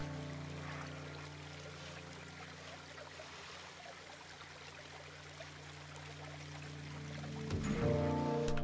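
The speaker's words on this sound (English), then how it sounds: "Well, I didn't know there was fountain splashes." Fountain splashes in the park-building game Planet Coaster: a steady, continuous trickling and pouring of water with a low hum underneath, swelling slightly louder near the end.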